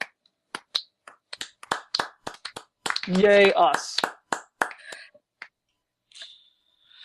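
Podcast hosts doing a mock slow clap, a handful of sparse, widely spaced hand claps gradually picking up, with people talking and a brief cheer in between.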